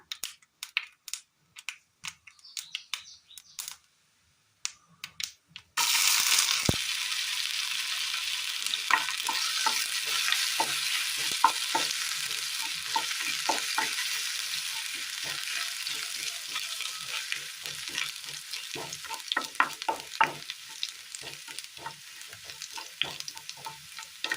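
Chopped ginger and garlic hit hot oil in a pan for a chicken curry, a sudden loud sizzle after a few quiet seconds of scattered knocks, then steady frying with repeated scraping stirs throughout.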